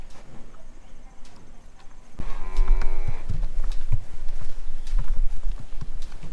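Cattle on a farm being fed surplus tomatoes moo loudly and close by in a long call, while hooves shuffle and thud nearby and steady background noise continues throughout.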